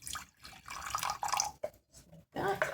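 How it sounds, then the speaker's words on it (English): Water from a tap trickles and splashes into a half-cup measuring cup already holding apple cider vinegar, in short uneven bursts with pauses, close and fairly quiet. "the rest I'm going to add up with water until it fills up to 1/2 cup"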